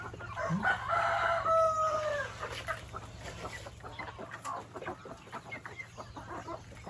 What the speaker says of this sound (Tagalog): Ayan ang manok natin ngayon